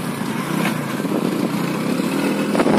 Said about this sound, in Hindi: निकल रहे हैं बाइक में बैठ करके